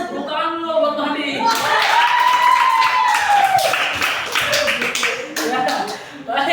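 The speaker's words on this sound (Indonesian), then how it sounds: "tepuk tangan lo buat Madi" A classroom of students claps for a classmate during a micro-teaching lesson, with a loud burst of hand claps building after a moment and then thinning, mixed with voices talking and light laughter.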